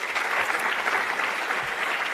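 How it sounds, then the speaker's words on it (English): An audience at a youth trade convention applauds conference panelists, a dense, steady burst of many hands clapping together, sustained and fairly loud throughout. "Let's give a round of applause for our panelists"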